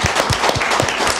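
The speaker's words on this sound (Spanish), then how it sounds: "Un aplausote también para ellos." A studio audience gives a short burst of applause for guests on a Puebla football talk show, with a few distinct rhythmic claps standing out over the crowd's steady patter.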